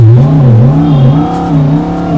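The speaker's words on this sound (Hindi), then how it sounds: "ये वाली ये रेस मोड की आवाज है" Synthetic race-mode drive sound played from the exterior speakers of a Mahindra XEV 9e electric SUV, a loud, steady humming drone that wavers gently in pitch like a revving engine, heard alone without talk.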